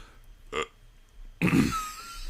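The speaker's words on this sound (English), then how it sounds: "he said, this is what I think of this, and then he just burped" A loud, drawn-out burp rumbles for about a second after a brief earlier noise, close to the listener with no talking.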